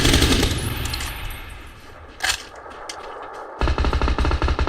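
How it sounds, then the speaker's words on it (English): Gunfire in the video game PUBG: rapid automatic bursts open the moment, quieter scattered shots and echoing reports follow, then another loud fast burst of rattling fire at the end. "Mate, they're shooting at me back."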